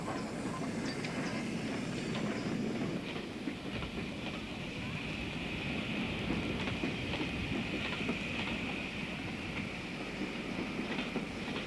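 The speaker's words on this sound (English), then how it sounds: "Flying Scotsman enters Appleby Station and after only a very short break departs for the north" The Flying Scotsman steam locomotive pulling out of Appleby Station with a midweek special in summer, a steady rumble of rolling carriages with rhythmic wheel clatter and a faint high squeal, moderately distant and continuous.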